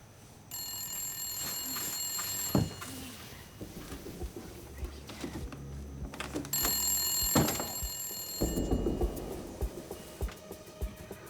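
A telephone rings in two bursts of shrill bell trills separated by a pause, mid-loud, with clattering movement and footsteps in between.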